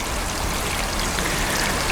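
Aerated water spat from 2-inch pond filter outlet pipes, a dense steady splashing hiss like heavy rain, continuous and close with no voices.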